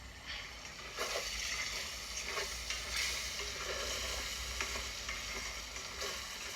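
Masala sizzling and frying in a pot while being stirred for Moghalai pulao, a steady close hiss with periodic scraping bursts from the stirring.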